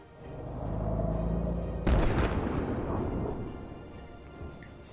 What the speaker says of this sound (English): Auto cannons.